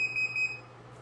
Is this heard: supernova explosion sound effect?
no